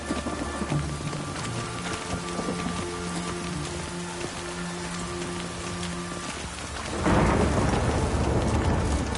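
Steady rain pours throughout with low rumbling thunder in The Witcher video game, swelling into a louder, closer burst of rain and thunder near the end.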